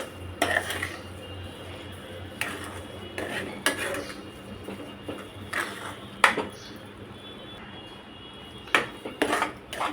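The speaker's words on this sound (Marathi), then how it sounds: "साखर विरघळेपर्यंत ढवळत राहायचं।" A metal spoon scraping and clanking against a pan while stirring sheera as the sugar dissolves, in irregular bursts of sharp knocks with quieter gaps.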